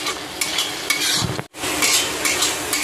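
Dried red chili powder frying in a pan in a hill village kitchen, a steady close sizzle with scraping stirs, a brief pause midway, then the frying hiss carries on.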